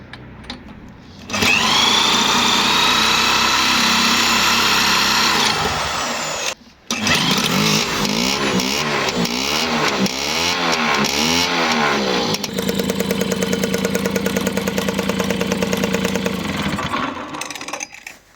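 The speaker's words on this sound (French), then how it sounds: "le moteur a démarré correctement, donc je l'ai démarré au bout de 3 fois" An MBK moped's small two-stroke engine cranks and catches outdoors at night, then runs loud and buzzy with repeated revving, the pitch rising and falling in rapid waves before settling into a steady high idle.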